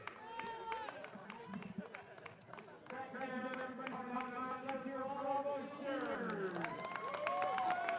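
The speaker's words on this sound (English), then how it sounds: "one final round of applause to the seniors" Crowd applauding the seniors on senior night after a boys' high school soccer game between Shrewsbury and Leominster, with steady clapping and cheering under a loudspeaker announcer's voice throughout.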